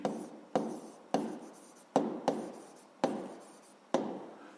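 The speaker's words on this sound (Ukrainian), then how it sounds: "Записуємо зрівноважені." A pen writing on paper in a quiet room, a run of seven or eight short scratchy strokes, each starting sharply and trailing off, close up and alone.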